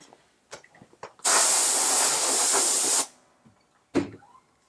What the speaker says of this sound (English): I'm going to take a can of compressed air, and I'm going to blow those off